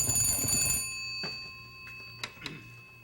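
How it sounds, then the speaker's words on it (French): An old-fashioned telephone bell rings in a quiet room in a French-language period drama, a loud dense ringing burst at the start that cuts off abruptly, followed by a few faint knocks and clicks. "je vais répondre au téléphone"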